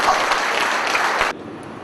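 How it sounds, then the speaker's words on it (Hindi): Loud applause from an audience honoring a doctor at a live presentation, dense steady clapping that cuts off abruptly partway through, leaving a quieter room tone. "जोरदार तालियां डॉक्टर"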